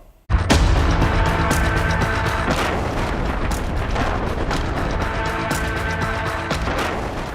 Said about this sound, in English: Loud explosion in the national capital on Sunday